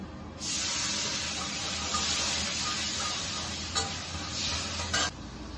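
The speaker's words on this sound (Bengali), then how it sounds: "ধনে গুঁড়ো, জল দিয়ে দিচ্ছি।" Water and coriander powder go into a hot pan for a thin shing fish curry, setting off a loud, steady hiss and sizzle that holds for about five seconds with a couple of clinks, then cuts off abruptly.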